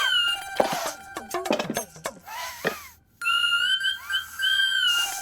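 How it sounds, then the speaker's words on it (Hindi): A pressure cooker whistle in a home kitchen lets out a steady, shrill tone that holds for about two seconds after a brief silence, preceded by a jumble of clattering, clinking sounds. "ये तो कुकर की सीटी है।"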